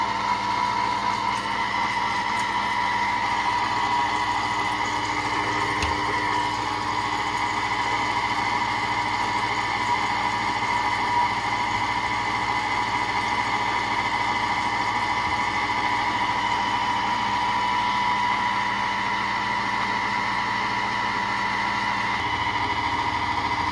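A Compact Cook Platinum food processor running its whisk program at speed 4 for chocolate mousse, giving off a steady, loud motor drone with a constant pitch for the whole stretch.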